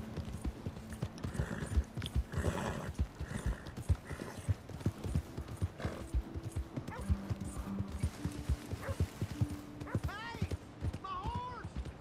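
Rhythmic hoof clip-clop from a trotting horse in Red Dead Redemption 2, steady and moderately loud, with talking and game-like background sounds layered over it.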